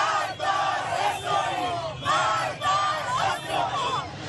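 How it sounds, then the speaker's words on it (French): A large crowd fills the streets of Tehran, chanting and shouting in rhythmic collective bursts that rise and fall about every second, loud and dense with babbling voices underneath. "la foule célèbre la riposte"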